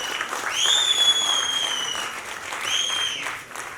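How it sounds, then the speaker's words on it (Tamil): Friends cheer in a packed cinema theatre, with clapping and crowd noise steady underneath and two shrill rising whistles piercing the din. "அங்கே கனிஷ்கா அவனுடைய நண்பர்கள் தனியாக அவனுக்கு வந்து ஹோல்டர் பண்ணி கைத்தட்டிக்கிட்டே இருக்காங்க"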